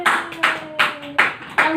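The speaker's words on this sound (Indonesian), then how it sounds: "Tepuk tangan." Short bursts of applause from a classroom of pupils, five quick rounds of clapping in succession, fairly close and clear with no talk over them.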